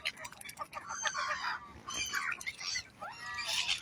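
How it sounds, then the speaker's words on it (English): Gulls call out over a lake where many birds gather to feed, harsh repeated squawks and cries close by, with people talking quietly underneath. "I think they're gulls."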